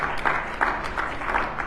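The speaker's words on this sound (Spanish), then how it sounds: "¿Cuántos dan un aplauso fuerte del Señor?" Brief, fairly quiet round of applause from a church congregation during a Spanish-language sermon service, steady patter with a few stronger bursts and a low hum underneath.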